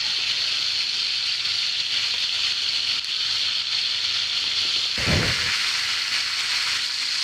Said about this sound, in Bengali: হালকা বাদামি করে মাংসটা ভেজে নিব